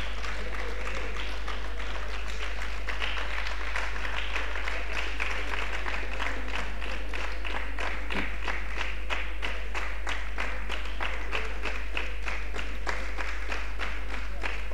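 Sustained applause from an audience, a dense steady clatter of many hands clapping that continues evenly for the whole stretch.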